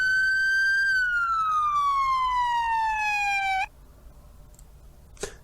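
Police siren in GTA V with the LSPDFR mod, a single loud wail that slowly falls in pitch over several seconds before cutting off abruptly, then a faint click amid quiet room noise.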